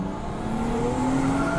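A Toyota Chaser JZX100 with a roughly 500 horsepower build drones steadily as its engine revs and climbs smoothly in pitch, loud and continuous without speech.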